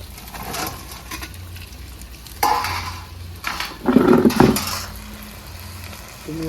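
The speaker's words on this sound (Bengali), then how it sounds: "এবার বেশি তেলটা গরম হয়ে গেছে, এবার এগুলো ছেড়ে দেবো।" Cauliflower pieces for a fried cauliflower 65 dish frying in hot oil, a steady soft sizzle with louder crackling bursts as more pieces go in, close by in a home kitchen.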